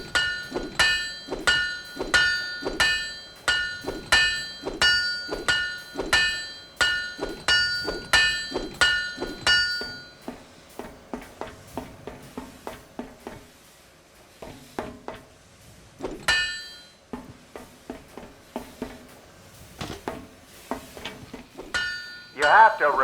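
A buff hammer strikes a ship part in the video game Guns of Icarus Online, landing over a dozen rapid, evenly spaced ringing metallic clangs. The blows then turn sparser and duller, with a few scattered louder hits.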